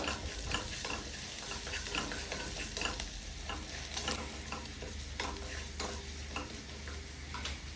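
Something frying in hot oil in a pan, with a steady sizzle broken by repeated scrapes and clicks of stirring; close, continuous and fairly quiet, no voices.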